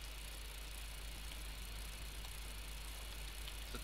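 Vehicle engine in a military video game, a steady low idling rumble with constant mid-range drone throughout, no voices.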